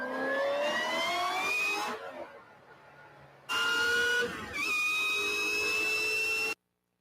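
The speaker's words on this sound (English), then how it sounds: "That's the supercharger on it." A car's supercharger whine, rising as a steady high-pitched tone over engine noise in two loud sustained stretches separated by a quieter pause, then cutting off abruptly.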